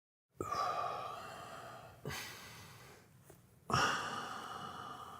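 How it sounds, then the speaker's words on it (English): Heavy, loud breathing right up against a microphone, with three long rushing exhales or inhales, each starting sharply and slowly fading, and no talk. "It's impossible to not hear you just breathing super loudly."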